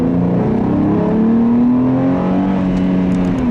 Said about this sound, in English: It has a very raspy, loud exhaust note